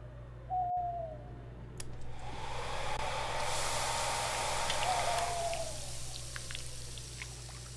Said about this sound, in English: Shut up, owl.